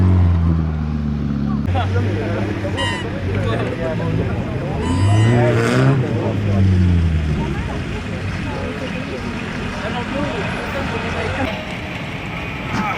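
An engine revs up and down loudly and steadily at an agricultural show, with rising and falling whine, as people talk over it.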